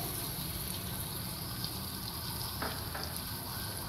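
Carrots and peas frying together in a pan for Chinese rice: a continuous, even sizzle close by with a faint clink of a utensil, no voices.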